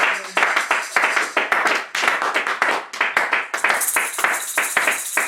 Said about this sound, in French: Est-ce qu'on peut applaudir pour le Seigneur Jésus?